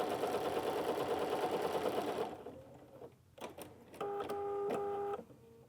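A sewing machine with an edge stitch foot top stitching along a folded fabric edge, a close steady mechanical whir that stops, followed by a few clicks and a brief higher hum.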